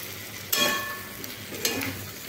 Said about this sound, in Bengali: এই মশলার সঙ্গে সব সবজিগুলোকে একটু এইভাবে নেড়ে নিচ্ছি, মিশিয়ে নিচ্ছি।